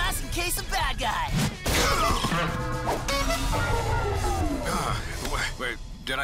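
Cartoon glass smashes in a loud crash with a sharp impact and tumbling shards, mixed among busy animated action effects and character voices talking over it.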